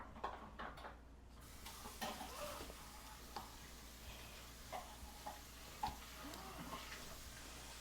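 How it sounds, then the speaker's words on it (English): The back of a spoon spreads sauce over a small Easy Bake Oven pizza, making soft, faint scraping and smearing strokes at an uneven pace against a quiet background. "Now we're gonna use the back of the spoon again to spread the sauce around."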